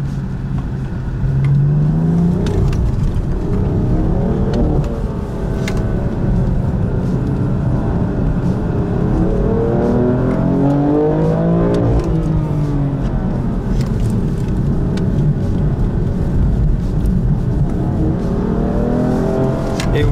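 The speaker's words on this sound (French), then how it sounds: "Et vous voyez que les voitures attaquent les trottoirs et ça bouge quand même pas mal." GT4 race cars at the Pau Grand Prix street circuit roaring past one after another, engines rising and falling in pitch as they speed by, loud and continuous with no talking.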